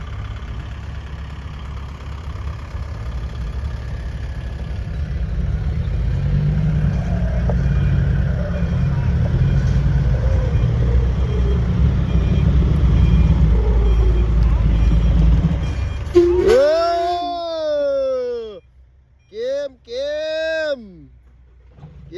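A heavy farm tractor engine chugs steadily and loudly for a long stretch, then cuts off, followed by a voice with some processed, warbling tones.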